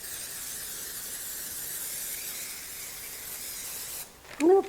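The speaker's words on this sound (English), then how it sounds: "We're going to spray it with some cooking spray on the bottom and the sides." A steady, soft hiss of cooking spray into a baking dish runs for about four seconds, then stops and a brief clunk follows.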